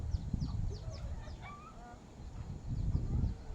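Fighting roosters and chickens clucking and crowing in a home vegetable garden beside a house, several birds calling at moderate distance over low rumbling background noise.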